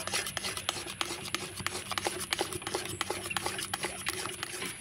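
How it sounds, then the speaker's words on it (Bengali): Palm pulp is stirred in a pan with a little salt to heat it, a steady rhythmic scraping and rasping that stays quiet and close with no talk. "এবার আমি নাড়াচাড়া করে তালের কাঠটাকে একটু গরম করে নেব।"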